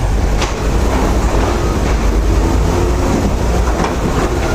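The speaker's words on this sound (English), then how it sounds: "I am riding through a train." A moving train heard from inside a carriage on a European rail trip: a loud, continuous low rumble and rushing noise with faint rhythmic clicks, and no talking.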